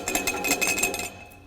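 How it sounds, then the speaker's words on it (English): A loose exhaust pipe on a rusty Honda Element rattles with quick metallic clinks and knocks for about a second, then stops. "That's just the pipe rattling around in there"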